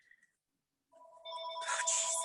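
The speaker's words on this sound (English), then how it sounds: "Of course, the phone rings." A telephone rings with a rising electronic tone that grows louder after a short pause, the ringing loud and close with no talking.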